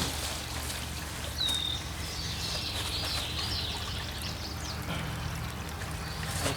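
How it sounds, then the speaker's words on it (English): Water from a garden hose runs steadily into the tank of an old Ford tractor being turned into a power washer, a constant close pouring wash with faint bird chirps outdoors. "Put some water in the tank."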